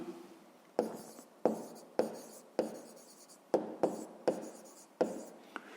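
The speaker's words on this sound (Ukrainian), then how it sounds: "І пишемо, це у нас вартість проїзду." A pen writes numbers on paper during a fifth-grade maths exercise, giving about nine sharp scratchy strokes in quick succession, each fading out, close and clear with no speech.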